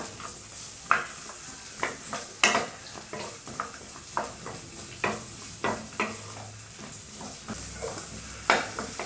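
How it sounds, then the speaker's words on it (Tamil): Onions sizzle steadily in hot oil while a utensil scrapes and stirs the pan in repeated, irregular strokes. "வெங்காயத்தை சேர்த்துட்டு நல்லா வதக்கிடலாம்"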